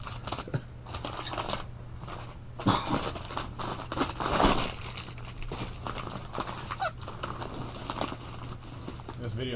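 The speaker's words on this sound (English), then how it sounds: "I'll use the scissors for what they're meant for." Scissors snip and crunch through plastic packaging wrap around boxed fender skirts for a 1964 Mercury Montclair, with irregular cuts and crinkling up close amid a low background hum and occasional voices.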